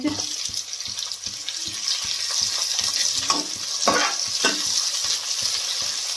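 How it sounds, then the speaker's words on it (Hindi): Onions fry in a pan for a Punjabi-style cauliflower and pea bhurji, a constant close sizzle broken by rhythmic stirring scrapes and a brief watery splash, with no talking. "हम प्याज पा देंगे"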